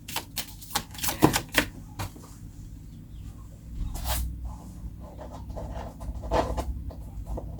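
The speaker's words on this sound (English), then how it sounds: "Let's shuffle some cards." A deck of tarot cards is shuffled by hand: sharp, irregular flicks and riffles, loud and close at first, then softer sliding and tapping. There is no talking.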